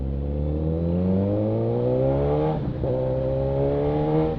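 A Suzuki GSX-S1000 motorcycle with auto blip and quick shifter revs hard under steady load, its loud engine note climbing in pitch, briefly dipping around a shift before rising again.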